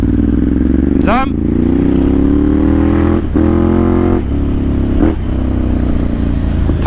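A Ducati Monster motorcycle revs up and down hard and close, with sharp exhaust pops and cracks breaking in at several points over a loud, steady engine growl.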